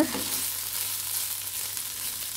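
Mutton pieces fry and roast in a pan with a steady, close hiss and crackle of sizzling oil and a faint low hum beneath.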